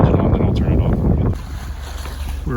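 Sailboat engine running steadily while motoring offshore near the Savannah ship channel, a low continuous drone under wind and water noise, louder for the first second and a half and then settling into a quieter, steady hum.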